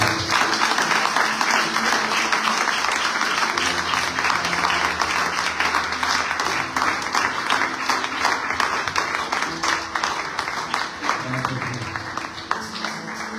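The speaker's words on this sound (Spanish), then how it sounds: "Aplaudan a Él, por favor." A church congregation at a Sunday service applauds loudly and continuously, thick massed clapping with faint voices and a low tonal hum beneath, tapering a little in the last seconds.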